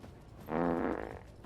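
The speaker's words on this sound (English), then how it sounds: "Alan Wake just farted, I know it." A short, buzzy fart from the Alan Wake horror video game blares out for about half a second over quiet background ambience, then fades with a slight flutter.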